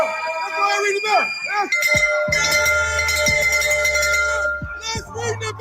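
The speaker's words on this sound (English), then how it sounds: "Let's go ahead and ring this bell." A bell rung repeatedly, bright metallic strikes with ringing overtones that decay between hits, loud and near, while people talk over it.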